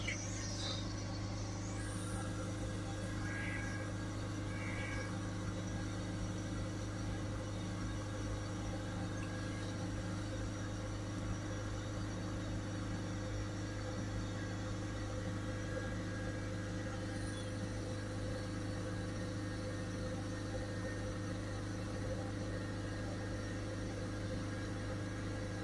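Ford Focus 1.6 diesel with a restricted, ash- and soot-loaded particulate filter held at about 3,000 rpm, a steady droning hum with stable tonal bands, faint and unchanging for the whole stretch.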